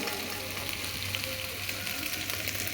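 Food frying in a pan gives a steady, close sizzle with a low hum underneath, continuous and even from start to finish.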